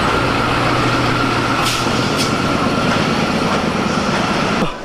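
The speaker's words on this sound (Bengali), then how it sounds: "12:30টায় ট্রেন আসছে আওয়াম এক্সপ্রেস ট্রেন" Awam Express from Peshawar pulling into a Pakistani station, a loud continuous rumble and rolling clatter with a steady tonal hum and a couple of sharp metallic squeals before it suddenly drops off.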